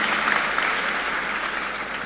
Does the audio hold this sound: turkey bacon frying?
no